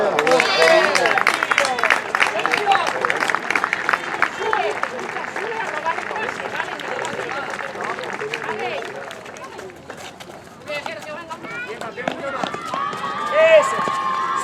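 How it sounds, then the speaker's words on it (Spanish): At a youth football trophy ceremony, the crowd applauds the third-place team with steady, dense clapping and cheering, mixed with shouting voices and crowd chatter throughout, easing slightly midway before swelling again. "Tercer clasificado, México Industrial. Un fuerte aplauso."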